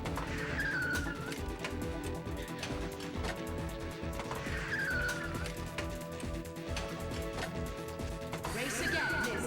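Race mode in the Pure Pinball video game: a steady bed of engine-like game sound effects and music with repeated squealing sweeps, loud and continuous, with a voice talking over it.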